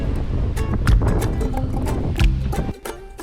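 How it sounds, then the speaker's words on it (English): Strong wind buffets a microphone with heavy low rumbling gusts, steady and close, with a few sharper bursts near the end. "It's windy."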